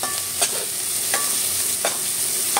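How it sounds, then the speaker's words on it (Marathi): Onions fry in a pan for Malvani mutton masala, a loud steady sizzle broken by rhythmic spoon scrapes about every second. "हा 2 कांदा चांगला फ्राय करून घ्यायचा"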